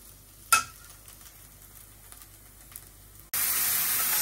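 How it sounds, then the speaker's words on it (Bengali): Potato and eggplant pieces drop into hot oil for light frying before going into a hilsa fish curry, giving an abrupt loud, close sizzle after a quiet kitchen moment with a single clatter. "আলু আর বেগুন একটু হালকা করে একটু ভাজা নিতে আসি"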